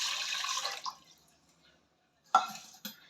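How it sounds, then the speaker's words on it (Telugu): Water is poured from a glass into a pressure cooker, giving a short steady splashing pour followed by quiet and a couple of brief drips or clinks; no one speaks. "ఒక కుక్కర్ తీసుకొని దాంట్లో కొన్ని వాటర్ పోసుకొని ఒక గ్లాస్ వాటర్ పోసుకొని"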